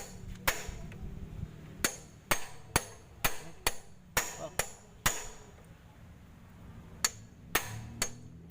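Metal struck by hand with a hammer, about fifteen sharp ringing blows in an irregular rhythm, some in quick pairs and others after pauses, close and fairly loud over a low background hum.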